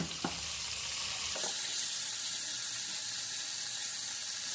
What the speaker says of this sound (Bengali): দিয়ে ফুলকপিটাকে একটু হালকা লাল লাল করে ভেজে নেব।